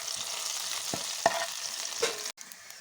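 Onions sauté in a pan for a Vishu-style duck curry, giving a steady close sizzle broken by a few spoon scrapes and light clinks, with a brief dip in the noise near the end; no one speaks.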